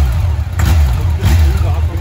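A 2005 Yamaha FJR1300 sport tourer motorcycle passing by on a street in Winter Park, Florida, a loud low engine roar swelling twice, heard close and mixed with people talking.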